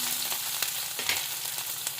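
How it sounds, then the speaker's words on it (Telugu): Green chilli, capsicum and curry leaves stir-fried in a hot pan, a dense close sizzle with quick repeated scrapes of the spatula over two seconds. "ఇప్పుడు పచ్చిమిర్చి ఒకటి, కొన్ని క్యాప్సికం, కరివేపాకు వేసి మంచిగా ఇలాగే కలియపెడదాము."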